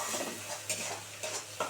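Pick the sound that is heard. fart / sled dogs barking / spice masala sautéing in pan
spice masala sautéing in pan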